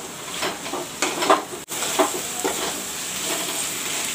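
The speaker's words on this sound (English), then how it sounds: "I will let the tomato fry a bit." Chopped tomatoes frying in masala in a pan for a brinjal and potato curry: a close, continuous sizzle with repeated stirring scrapes and a brief clink of the spoon against the pan, with no talk.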